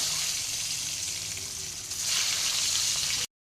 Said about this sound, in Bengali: এই যে ডিমগুলোকে সুন্দর করে সোনালি রং করে ভেজে নেব।